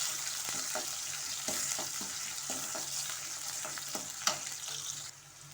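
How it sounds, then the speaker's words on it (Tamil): Onions sauté in a pan for a jackfruit seed masala, giving a quiet steady sizzle with occasional soft clicks of stirring, close and alone without talk. "வெங்காயம் நல்லா வதங்கிடுச்சு"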